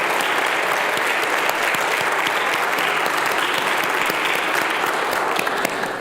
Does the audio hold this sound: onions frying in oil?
no